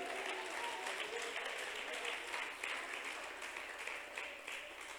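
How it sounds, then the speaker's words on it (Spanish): A church congregation applauds during a Spanish-language sermon, steady dense clapping heard at a distance and fairly faint, continuing evenly with no talk over it. "Denles aplauso al Señor para la gloria de su nombre."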